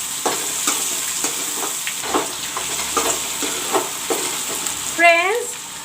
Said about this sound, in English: Now I will let the onions fry.